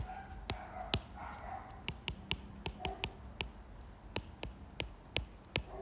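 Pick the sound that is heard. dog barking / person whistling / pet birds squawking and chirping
dog barking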